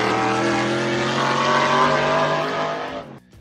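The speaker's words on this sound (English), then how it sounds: "The P60B40 V8 was built specifically to dominate ALMS racing." A BMW P60B40 4.0-liter naturally aspirated V8 built for ALMS racing screams at high revs in one loud, sustained, harmonic-rich pass, then cuts off abruptly near the end.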